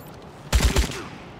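A short, loud volley of gunshots from the Wasteland 3 video game rings out, several shots fired in quick succession, then fades into a quiet background.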